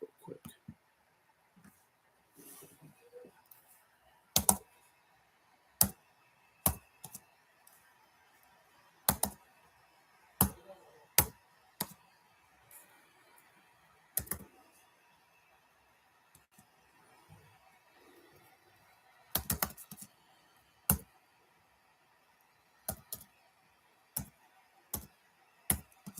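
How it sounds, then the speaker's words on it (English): Sparse keystrokes on a computer keyboard, single sharp clicks and short clusters spread apart with long pauses between them, close and fairly distinct over a quiet room, and a person talks between them. "I'm going to type something in the chat real quick."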